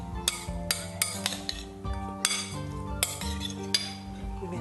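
Shrimp being mixed in a bowl with metal utensils for a shrimp tabbouleh, with about seven sharp, bright clinks at uneven intervals over soft background music.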